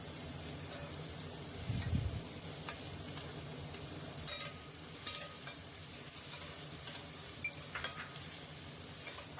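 Peas are stirred into juicy tomatoes in a frying pan, giving a steady low sizzle and bubbling with occasional soft scrapes and taps from the spoon, close and faint.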